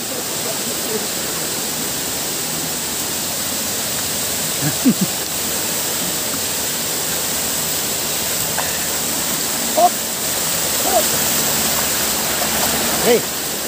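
Engkanto Falls in Libmanan pours as a constant, loud broadband rush of falling water, with faint voices of visitors and occasional small splashes near the pool.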